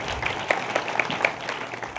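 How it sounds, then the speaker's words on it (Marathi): Applause at a Marathi kirtan gathering, a brief burst of fairly loud crowd clapping with a loose rhythmic pulse, steady throughout and heard without talk. "एकदा जोरदार टाळ्या वाजवा"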